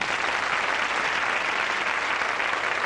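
A TV studio audience on a Spanish-language variety show breaks into loud, sustained applause, a dense, even roar of clapping that holds at full strength throughout without any talking.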